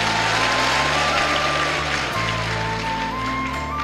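A large devotional gathering at a Hindu Bhagavata discourse claps together in a steady, dense roar that holds evenly for the whole stretch, loud and unbroken, with no voices on top.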